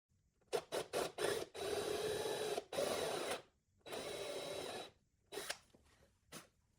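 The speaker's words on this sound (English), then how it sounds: "Drill a 5/16 inch diameter by 1/2 inch deep hole." Several short bursts of a drill whirring, then longer runs of grinding drilling a 5/16-inch hole half an inch deep in a Murphy bed part, stopping and starting with brief pauses in between, close up.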